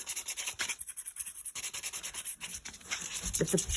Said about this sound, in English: I'm going to take my gator and I'm going to scuff up this plastic, okay, so that the paint will adhere